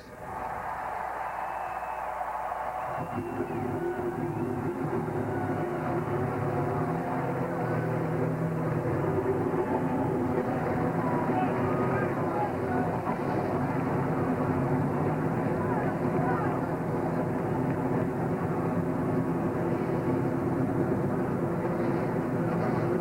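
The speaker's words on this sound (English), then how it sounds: "Gentlemen, start your engines." NASCAR stock car engines fire up at the start of the 2004 Daytona 500, the 46th running of the race. After a few seconds a massed, droning engine roar swells in and holds loud and steady, with faint voices mixed in.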